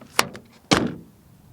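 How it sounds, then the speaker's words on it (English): A Mazda CX-30 door shuts: a light click, then a solid, muffled thunk up close, ringing briefly before fading out. "Then door closing sound."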